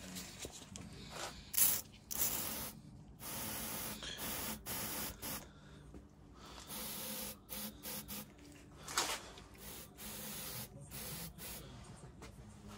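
Brake cleaner sprays onto the cylinder head of a 1920 Lister Q Type engine in repeated loud hissing bursts of varying length, separated by short pauses, close to the listener.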